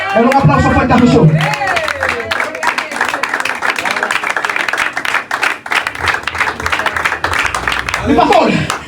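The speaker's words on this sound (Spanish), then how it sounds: "Un aplauso fuerte a Jesús." A church congregation breaks into loud, sustained applause and cheering, filling the space with dense clapping while voices shout over it.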